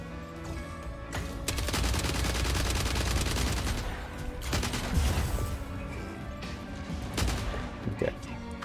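Mortar blasts and rapid gunfire from the mech combat video game Mech Arena, dense overlapping bursts filling the mix at a moderate level.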